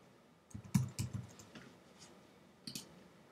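Computer keyboard typing in Xcode: a few soft, close key clicks in two small clusters, quiet against a faint room hush.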